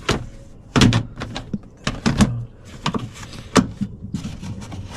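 A tool drawer in a camper being opened and handled, with a series of close hollow clunks, knocks and sliding rattles in irregular bursts and no talk.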